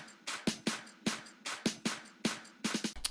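Percussion loop from the second build of an electronic NCS track, a steady run of sharp, bright hits in an even rhythm, loud and alone, with a quick extra flurry at the end.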